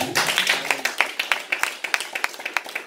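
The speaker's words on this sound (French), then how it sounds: "Acclame la parole de Dieu" Church congregation at a Sunday service clapping in a steady rhythmic beat, sharp repeated claps close and fairly loud, with faint voices acclaiming underneath.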